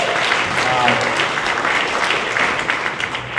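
An audience at a film festival awards ceremony applauds in a steady, dense wash of clapping that fills the room and carries on throughout, with a voice faintly present underneath.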